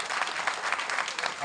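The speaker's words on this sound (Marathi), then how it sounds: "त्यांच्याकरता एकदा जोरदार टाळी वाजवून." An audience at a Maharashtrian devotional varkari event claps loudly for a famous singer. The applause is dense, steady and close, filling the whole moment with no break.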